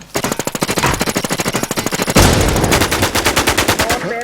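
Loud, close automatic gunfire in the online shooter Warz, a fast even machine-gun rattle of rapid shots that runs steadily through the clip, thickening into a denser burst midway.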